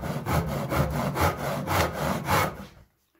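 A hand saw cuts wood along a pencil line: about six loud, even push-pull strokes rasp close by, then stop abruptly into silence.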